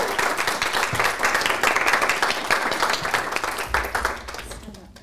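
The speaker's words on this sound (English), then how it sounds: "Can we give another round of applause?" A room of people applauds at the end of a talk during an equality week event, sustained clapping that gradually thins and fades out near the end.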